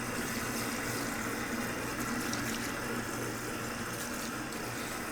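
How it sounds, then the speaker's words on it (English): Steady, loud running water rinsing shampoo out of a Follea wig, a continuous splashing gush that holds even throughout with no talking. "allow the water to push all the shampoo out of the hair"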